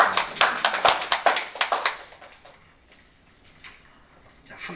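A church congregation applauds a returning pastor and his companion after a three-week Latin America mission trip, a dense burst of clapping for about two seconds that quickly fades into quiet room tone.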